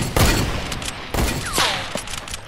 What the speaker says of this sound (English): we're also being shot at by someone else